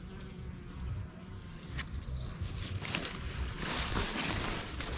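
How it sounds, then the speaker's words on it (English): Bees at work among pumpkin blossoms on an off-grid farm, a steady low insect buzz with wingbeat flickers drifting close and away, no talk, outdoor ambience throughout. "Yeah man, see the bees them at work."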